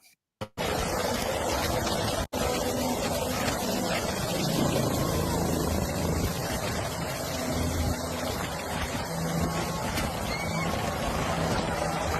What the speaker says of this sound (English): Odhiambo Uma standing alongside a helicopter at a wedding.